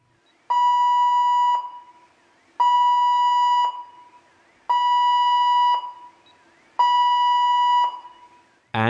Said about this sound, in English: The confirmed fire or gas, which is an intermittent sounder of constant frequency.